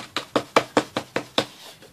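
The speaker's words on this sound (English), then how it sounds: "So let me bang this off here a little bit more." A sheet of paper being banged down on a surface to shake off glitter gives seven sharp, evenly spaced knocks, close and fairly loud, with no speech.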